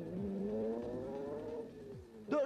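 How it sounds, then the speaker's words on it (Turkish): A Ferrari F355 Challenge engine pulls hard from a standstill toward 100 km/h, its steady rising tone stepping through gear changes, close and loud, ending in a sharp burst at the close. "Bakalım Ferrari F355 Challenge 0'dan 100 kilometreye kaç saniyede çıkacak?"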